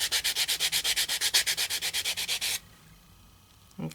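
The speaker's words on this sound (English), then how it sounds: "And you're going to start sanding." A heavier-grit sanding block is rubbed by hand across a small metal piece in quick, even back-and-forth strokes, about twenty close rasping passes before it stops and a faint brief knock follows.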